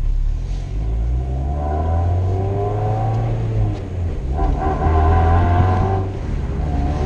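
A Mazda MX5 NC 2.0 with the BBR 200 upgrade accelerating, its engine note rising and falling through the gears, heard loud and close from inside the car.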